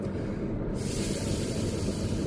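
Air blown steadily between the lips while practicing trumpet mouthpiece buzzing makes a continuous close breathy hiss with no talking.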